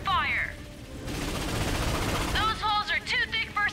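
Ion cannon in the Ratchet & Clank (2016) Batalia level firing from a fort turret: a rising charge whine, then a loud sustained blast with rumbling noise, followed by a burst of rapid chirping laser-like zaps over game sound.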